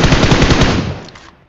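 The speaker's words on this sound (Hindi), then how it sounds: "सामने से फायर आया है इधर।" Rapid automatic gunfire in a video game rattles out as a short, loud burst of about seven shots, then a quick decaying echo tail.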